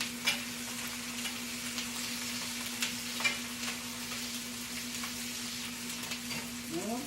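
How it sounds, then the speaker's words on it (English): Onions sizzling and frying in a pot for turnip green soup, stirred with a utensil; a steady close crackle with occasional scraping knocks, no talking. "Let me stir our onions again."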